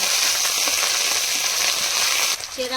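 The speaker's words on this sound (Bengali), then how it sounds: "ভালো করে এবার কষিয়ে নেব" Cumin powder and dry chilli powder fry in a pan with oil, a steady bright sizzle close by, softened near the end as something is stirred in.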